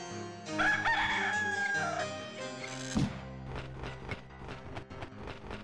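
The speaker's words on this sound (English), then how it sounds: "What are you doing to that bird, Wincy?" Cartoonish bird squawking and crowing like a rooster in the adventure video game Discworld 2, a loud drawn-out call followed by a thud and a run of quick rhythmic taps.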